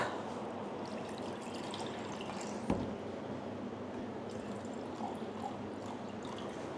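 Warm tap water pours into a measuring cup in a home kitchen, a soft continuous trickle and splash with one sharper knock partway through, fairly quiet and close.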